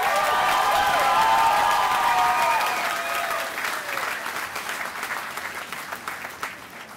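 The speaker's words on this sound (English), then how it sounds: "Let's have a big round of applause for all the EMHA graduates." Graduation ceremony crowd applauding graduates at a commencement, loud sustained clapping with some cheering and faint whistle-like tones early on, gradually fading toward the end.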